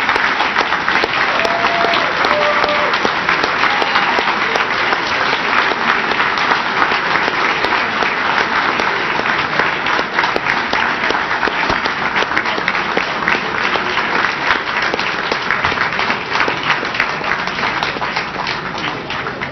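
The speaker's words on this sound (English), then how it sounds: "Let's give them one more big round of applause." Sustained audience applause at a hall of fame induction ceremony, a dense, steady wall of clapping that stays loud and even for the full stretch, with no talk over it.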